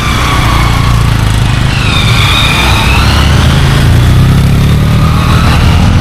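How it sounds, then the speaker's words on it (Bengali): A motorcycle engine hums steadily on a hill road at Parasnath Hill in Jharkhand, loud and continuous for the whole stretch, with a faint rising whine partway through and no voices. "নিচ দিয়ে বাইকটা যাচ্ছে"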